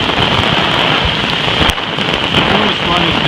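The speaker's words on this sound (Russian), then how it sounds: "нереально проливной дождь." Heavy downpour in Russia with gusting wind, a dense, loud, steady hiss of rain on surfaces filling the whole stretch, with a brief louder splash or gust partway through.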